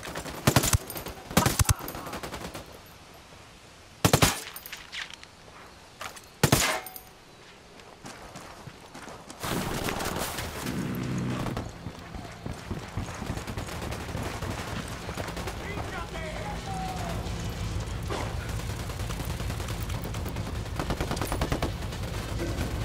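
Tactical military shooter gunfire in Ghost Recon Wildlands: several loud, sharp isolated shots early on, then a long stretch of dense, sustained firing and action noise.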